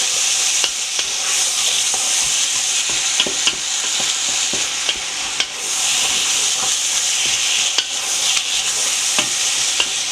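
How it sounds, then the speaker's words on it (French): Tomatoes and turmeric cook in a pot for a Réunion-style cari, with a continuous close sizzle broken by regular scraping clicks of a spoon stirring against the pot. "on va laisser cuire à peu près une dizaine de minutes en tournant régulièrement"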